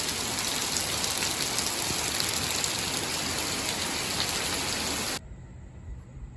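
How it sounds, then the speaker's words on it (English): Heavy rain pours down on a street, water gushing from a gutter as a steady, loud, dense hiss that cuts off abruptly near the end. "Rain was pouring out of the gutter right there."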